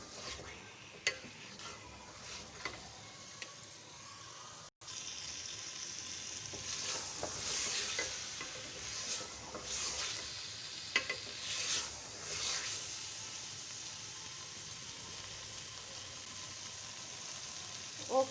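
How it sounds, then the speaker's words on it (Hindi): Potatoes and fenugreek leaves stir-fried in a pan over raised heat give a continuous soft sizzle, with scraping stirs and occasional utensil taps close by, no talking. "अब इसको करते हैं हम 1 से 2 मिनट इसकी बुनाई।"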